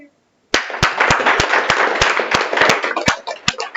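An audience claps after a talk at a final session, loud and close. Sharp individual claps stand out from the dense applause, which starts abruptly after a brief silence.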